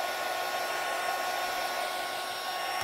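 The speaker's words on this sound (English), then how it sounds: "I'm going to dry him now with the heat gun" A heat gun blows steadily at close range, a constant loud whooshing hiss drying acrylic paint on a painted canvas, with no talking.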